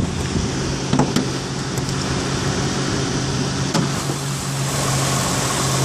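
A 3.5-liter Acura MDX engine idles with the hood open, a steady, fairly quiet close hum with a low tone and a few faint clicks, no talking.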